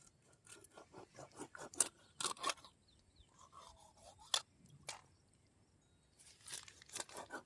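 A knife cuts river fish into small pieces, heard as faint, close, irregular crisp scraping and slicing strokes in uneven bursts, with no talk.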